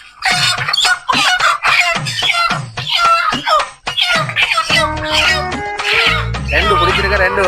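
Live chickens at a market clucking and squawking loudly in repeated bursts, with people talking over and between the calls close by.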